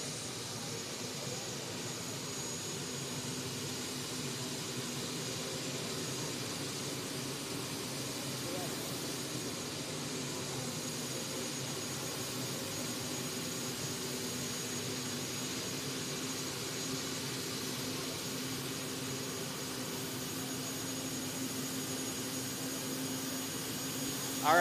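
Pulling tractor at a 4-H county fair tractor pull, the Meristem Crop Performance Tractor, roaring steadily at a distance as a constant broad engine drone with no breaks, loud and continuous from start to end.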